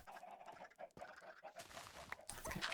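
Chickens cluck in the Minecraft video game, giving short, soft, irregular clucks that come in quick bursts at low volume, with small game noises between them.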